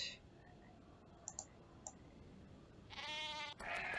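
Sheep bleat in the Nancy Drew video game, a wavering bleat near the end after a few soft clicks, heard fairly close over quiet background.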